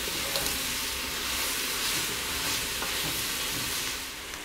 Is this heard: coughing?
no